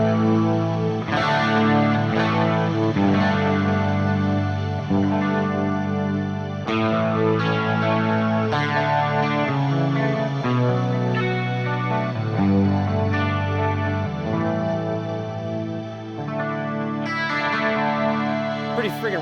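An electric guitar run through a Fractal Axe-Fx III with a shimmer effect plays sustained, lush chords and notes, dense with chorus-like modulation and a long shimmering tail, loud and continuous throughout.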